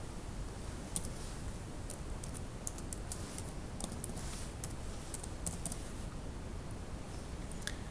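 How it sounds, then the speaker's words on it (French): Computer keyboard typing while entering an email address into a Joomla 3.2.3 user form, faint scattered key clicks in short bursts over a steady hiss of room noise. "Je dois taper un email."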